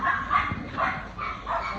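A puppy gives three or four high, yelping barks at a steady pace, close and fairly loud over faint background noise, with no talk.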